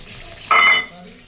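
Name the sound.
dry red chili and nigella seeds tempering in hot oil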